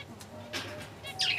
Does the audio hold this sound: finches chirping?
yes